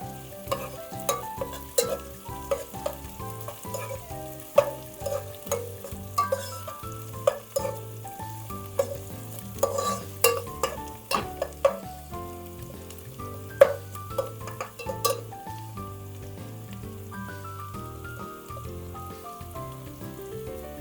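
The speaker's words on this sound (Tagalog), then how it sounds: "Haluin lang natin mabuti hanggang sa maging translucent ang kulay ng sibuyas at medyo maluto yung bawang." Onions and garlic sautéing in a pan for chopsuey while being stirred, soft continuous sizzle broken by repeated scraping and clacking strokes of a utensil against the pan, close and without speech.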